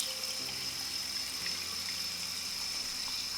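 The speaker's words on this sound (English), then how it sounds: "place your AquaFlame under the faucet and let the water run through the outlet" Tap water gushes steadily through the pump outlet of an AquaFlame fountain held under a faucet, a constant close hiss of running water with no talk.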